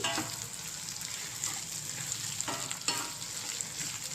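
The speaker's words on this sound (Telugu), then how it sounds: "చాలా మట్టుకైతే కుక్ అయిపోయింది. ఇంకా బాగా ఫ్రై అయిపోవాలి ఇవన్నీ" Bitter gourd slices frying in a pan, a continuous bright sizzle broken by a few louder stirring scrapes, heard up close with no one talking.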